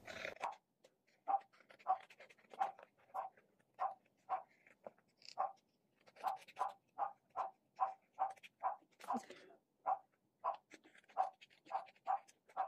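A dog pants in quick, rhythmic bursts from downstairs, each breath a short huffing puff, steady and fairly close in an otherwise quiet room.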